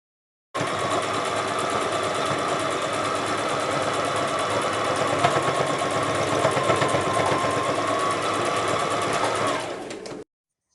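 A sewing machine stitches shirt fabric in one continuous, even whirring run of about ten seconds, close and steady, with no talk.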